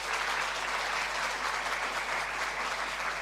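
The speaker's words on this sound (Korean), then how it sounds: "박수로 한번 격려하겠습니다" A church congregation claps steadily in a dense, even wash of applause at a Sunday worship service, continuous and moderately distant for the whole stretch.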